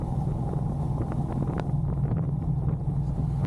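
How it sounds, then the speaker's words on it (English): A Honda Hornet motorcycle engine drones steadily while riding along country roads, a continuous low rumble mixed with heavy wind buffeting on the microphone. "I love that engine sound"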